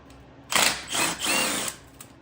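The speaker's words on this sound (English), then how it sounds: "That one we might have to get a wrench on." Power tool whirring in three short bursts while loosening bolts on the engine of a budget Fox-body car, close and fairly loud with brief gaps between.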